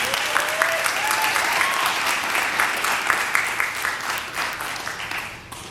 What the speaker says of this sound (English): Let's clap for those poets.